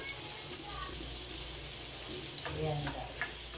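Garlic, onion and ginger sauté in a home kitchen pan for chicken curry, a soft continuous sizzle with light stirring scrapes, a voice murmuring faintly underneath.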